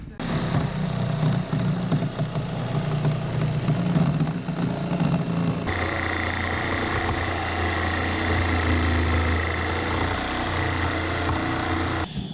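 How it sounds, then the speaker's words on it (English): Power tools cut through a plywood bulkhead inside a MacGregor Venture 21 sailboat: a hole saw, a multi-tool and a jigsaw. A loud, steady motor drone runs the whole time, shifting pitch about halfway through. "So I'm going to get my hole saw to cut the center hole, and then my multi-tool to start it, and then with a jigsaw follow around on all 3"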